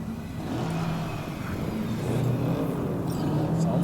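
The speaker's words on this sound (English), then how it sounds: "Start your engines, folks." Several car engines in a video game convoy idle and rev together, a steady loud engine drone with rising and falling tones throughout.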